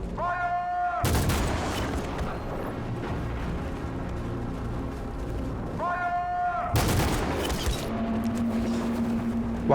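Gunfire in the video game Detroit: Become Human, a few heavy shots and booming impacts over a dense, rumbling background, along with faint musical tones and a voice talking over it.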